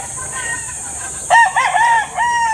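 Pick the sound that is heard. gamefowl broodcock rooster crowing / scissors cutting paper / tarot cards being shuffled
gamefowl broodcock rooster crowing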